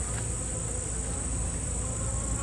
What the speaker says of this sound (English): And a lot of bees.